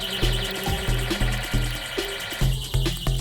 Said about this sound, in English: Little water alarm tells me that the water's up to the right level.